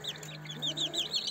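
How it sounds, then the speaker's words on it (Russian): Twenty-seven young chicks in a box under a warming lamp peep continuously in rapid, high, overlapping calls, close and moderately loud. "Вот какие мы тут 27 цыплят."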